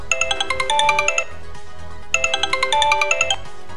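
A bright electronic ringtone melody plays twice through a Sony Ericsson phone's small loudspeaker during a service-menu speaker test, a quick run of chiming notes separated by a short pause.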